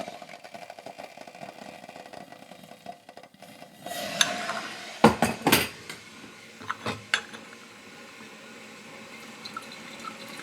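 Water pours and splashes over Assamica white tea leaves in small teaware, followed by a few sharp clinks of porcelain lids and cups, close and clear, then quieter handling.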